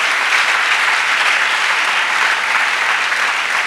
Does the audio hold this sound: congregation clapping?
yes